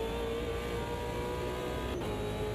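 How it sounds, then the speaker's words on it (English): Race car engine in Automobilista 2 (AMS2) sim racing, a steady loud droning roar with sustained harmonics throughout and a brief shift-like dip near the end, with no talking over it. "Just the sheer grunt you get from this engine."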